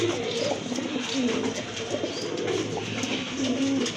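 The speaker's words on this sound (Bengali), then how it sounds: "আর এক জোড়া কবুতর দেখেন বিগ সাইজের এক জোড়া কবুতর" A big-sized pair of pigeons at a market coo steadily and close by, a continuous soft rolling call with no talk over it.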